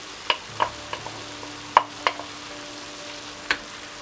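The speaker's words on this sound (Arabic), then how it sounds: "شي كتشحر مزيان، حتى كتشحر هاد الخضره مزيان" Vegetables sautéed in a pan as filling for chicken and vegetable briouats, with sharp scattered spatula scrapes and taps over a faint background sizzle, close by.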